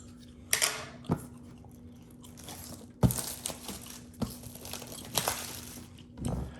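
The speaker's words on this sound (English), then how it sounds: "let's go ahead and crack this bad boy open. I've got my handy dandy X-Acto knife" A craft X-Acto knife slicing through the shrink wrap and tape of a deluxe board game box, giving several sharp crinkling, crunching cuts in uneven bursts, close and fairly quiet.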